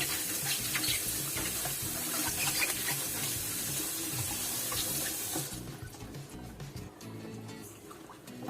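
Tap water pours steadily into a container being filled to sanitize leafy vegetables such as kale, broccoli, spinach and arugula, a loud, continuous splashing rush that softens and thins out near the end.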